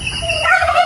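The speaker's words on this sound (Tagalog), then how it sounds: "Ito naman po yung mga pabo." Turkeys on a small farm give a short, nasal warbling call that rises in pitch, close by, with faint farmyard background beneath it.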